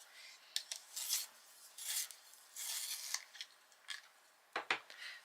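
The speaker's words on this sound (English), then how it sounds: "I will need to sharpen it though." A warm grey coloured pencil is sharpened in a handheld sharpener, giving soft, close scraping and rasping strokes in uneven bursts with brief pauses and a couple of sharper clicks near the end, with no talking.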